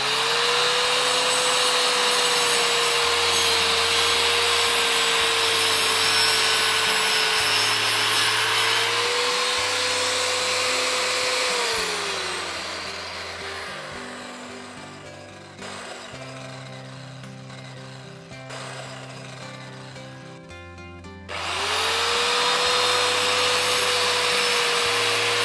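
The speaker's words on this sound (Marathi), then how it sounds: "याप्रमाणे वीट ठेवा आणि मशीन चालवा आणि ते पूर्ण वेगाने येऊ द्या." A brick cutter machine runs at full speed with a loud steady motor whine, then drops into a grinding, rattling cut as the blade bites through a brick, before the high whine returns, close and without talk.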